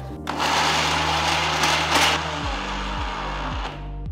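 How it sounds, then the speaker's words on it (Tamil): A mixer grinder whirs loudly grinding spices with coconut oil, then its motor pitch drops and shifts as the load changes while grinding. "மிக்ஸி ஓப்பன் பண்ணி திருப்பி விட்டுட்டே அரைச்சிங்கன்னா உங்களுக்கு நல்லா வந்துடும்"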